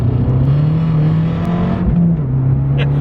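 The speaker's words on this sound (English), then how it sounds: "as you pop and bang into the next gear and the next gear" An Abarth 595 hot hatch engine drones loudly and steadily, its pitch climbing, dipping briefly at a gear change, then pulling again, heard from inside the car.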